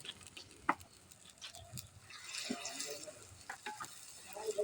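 Onion paste with green chili and coriander paste fries on a clay stove, a soft crackling sizzle with scattered pops and stirring scrapes that swells louder toward the end.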